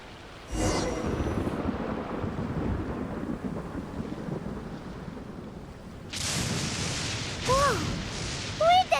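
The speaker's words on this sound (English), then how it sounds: "Whoa! Where'd that thunder come from?" Thunder from a thunderstorm during a video game event: a sudden loud crack followed by a long rumbling roll, then a second burst of thunder with brief chirpy game sounds near the end.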